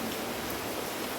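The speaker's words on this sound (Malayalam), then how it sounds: "നല്ല മഴ" Heavy rain falls in a steady, dense hiss that fills the short moment evenly, with no voices over it.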